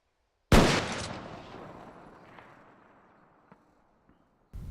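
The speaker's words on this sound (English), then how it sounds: "You hear the shot report." A single loud rifle shot cracks sharply, then its report rolls and decays for several seconds into quiet, with a faint distant thump near the end and another sharp onset at the close.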